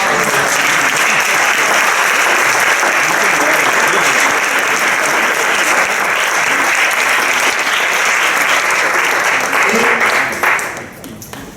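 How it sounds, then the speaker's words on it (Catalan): A large audience bursts into sustained, dense applause at a wedding celebration, loud and steady for around ten seconds before fading out at the end. "l'aplaudiment és per a vosaltres mateixos"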